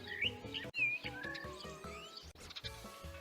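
Small birds, a sparrow and a tit, chirp and tweet in a quick series of bright calls, close and clear, with no voices alongside.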